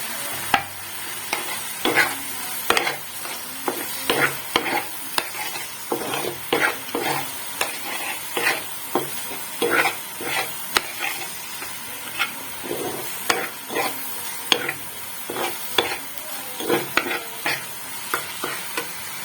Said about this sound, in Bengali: এর সাথেই আমি চিংড়িগুলো দিয়ে দিচ্ছি এবং এটাকে নাড়িয়ে নেব।